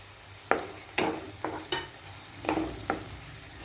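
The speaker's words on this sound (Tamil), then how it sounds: "இப்போ நான் ஃப்ரை பண்ணி வச்சுருக்க முந்திரியை இந்த அல்வாவோட சேர்த்துக்கிறேன்." Fried cashews being stirred into yellow pumpkin halwa with ghee, a spoon scraping the pan in six distinct, evenly spaced strokes over a quiet background, close and moderately loud with no voices.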